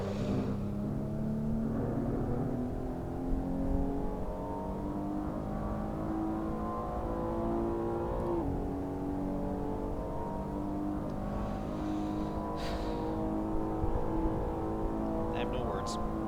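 Maserati Levante S with a V12 engine in Assetto Corsa, a smooth layered engine tone rising and falling through steady revs, with a voice talking over it part of the time.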